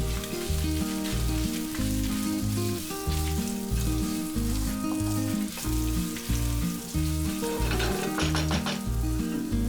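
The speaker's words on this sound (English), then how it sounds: "1 star anise, 1 inch cinnamon stick, 2 tablespoon coriander seeds, 1 inch ginger, and fry it for about 2 to 3 minutes" Star anise, a cinnamon stick, coriander seeds and ginger frying in a pan for Goan chicken xacuti, a continuous bright sizzle over a steady musical backing, with a burst of crackling toward the end.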